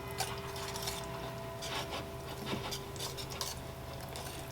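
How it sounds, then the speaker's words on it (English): A spoon stirs thick pumpkin butter in a pot, making continuous scraping and soft clinking against the metal, close and steady with no talk. "you're going to mix that really good until it's well combined"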